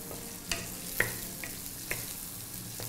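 Small shallots for a Kerala-style beef curry fry in a pan with a soft, steady sizzle and occasional light spoon taps against the pan, recorded close with no talking.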